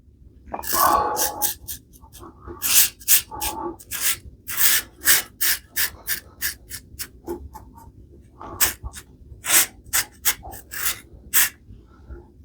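A butterfly razor scrapes across stubble in a final buffing pass, a series of short, crisp rasping strokes repeating at an uneven rhythm, fairly close and clear with no talk over them.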